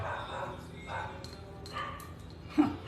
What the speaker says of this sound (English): I hear my dogs.